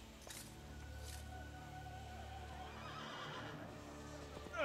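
A horse whinnies and its hooves clip-clop steadily in Assassin's Creed Brotherhood as a rider travels, over a constant game ambience with a brief louder burst at the end.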